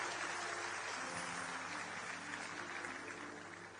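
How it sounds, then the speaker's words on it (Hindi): Audience clapping at a large outdoor stage event, a soft, continuous patter of applause heard from a distance that fades slightly toward the end. "आपकी तालियां कमजोर पड़ गई हैं"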